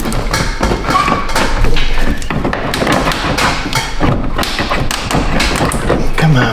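An old creaky stool in a garage being climbed onto and shifted about, a series of close irregular thumps and knocks with scattered creaks, fairly loud throughout.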